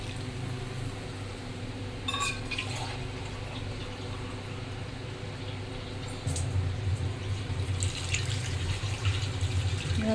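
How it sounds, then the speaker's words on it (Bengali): Water is poured into a rohu fish curry with Malabar spinach to make gravy, a steady liquid rush over a low kitchen hum that swells louder in the final seconds, with no voices. "এবার আমি ঝোলের জন্য জল দেবো"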